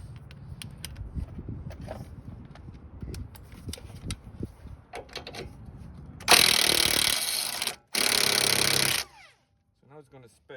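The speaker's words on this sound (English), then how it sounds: "I'm just gonna hit it with a power tool, see if we can" Power tool hammers at a rusted sway bar link bolt under a car in two loud, sustained bursts, after quieter clanks and handling noises from the work.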